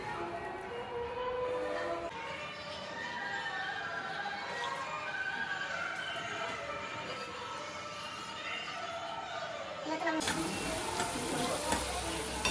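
Oil sizzles and crackles steadily as cumin, mustard seeds, curry leaves and chillies fry in a pan, with a brief louder burst of hissing near the end.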